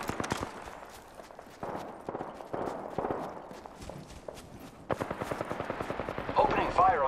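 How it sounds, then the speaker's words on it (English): Gunfire from the video game Apex Legends crackles in quick bursts and single shots, mixed with footstep-like thuds and game noise, at a moderate level throughout. "Opening fire on the enemy."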